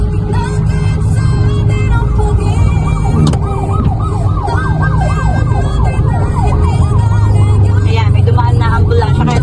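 An ambulance siren wails loudly through the middle of the clip, its warbling rise-and-fall sweeps cutting over steady city traffic noise and idling engines, with the vehicle passing close by.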